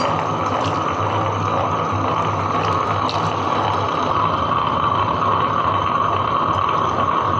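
Wet grinder grinding soaked urad dal into idli batter while water is sprinkled in, a steady, loud, continuous churning whir with a sloshing watery texture, unbroken throughout.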